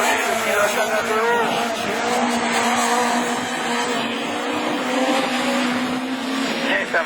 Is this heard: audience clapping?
no